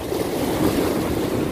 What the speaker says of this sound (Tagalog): medyo malakas yung alon, pero okay lang